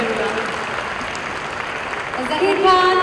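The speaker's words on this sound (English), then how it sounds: "Big round of applause." Audience applause at a panel discussion on wellness, a steady wash of clapping held at an even level throughout, growing a little fuller near the end as a voice begins to speak over it.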